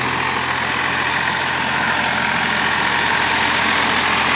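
Massey Ferguson 245 DI diesel tractor running with a 7-foot rotavator, a steady loud broadband engine drone with a low throb, continuous and close throughout.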